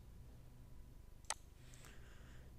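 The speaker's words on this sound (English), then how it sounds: "All right, so we click on that." A single computer mouse click made while working with a chart indicator, one short sharp tick against quiet room tone, followed by faint rustling.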